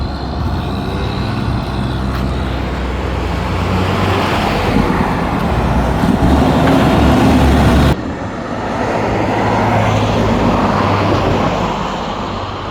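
Steady road traffic from a long line of vehicles in Jamaica, a loud continuous rumble and wash of engines and tyres close by, with no talking.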